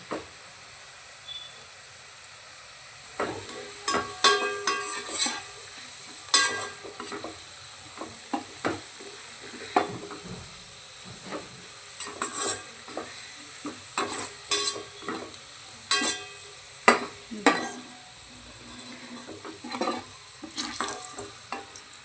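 Onions frying in a pan for restaurant-style chicken dum biryani, a soft continuous sizzle with frequent scraping and clinking stirs that start after a quiet opening and continue irregularly, close by, with no voices.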